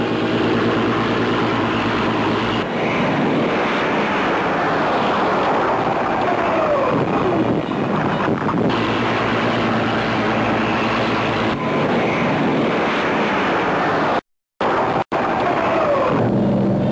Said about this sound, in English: experienced pilots put their plane down on the flight deck